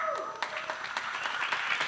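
Applause from a talk audience, a dense patter of many hands clapping at moderate distance, continuing steadily across the moment.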